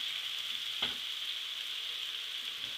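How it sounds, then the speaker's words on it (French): Apples sizzle steadily in hot butter or margarine in a pan, a continuous bright hiss of frying with a short louder crackle early on and no voices. "quand le beurre, la margarine, comme je disais, la matière grasse est bien chaude, je mets mes pommes"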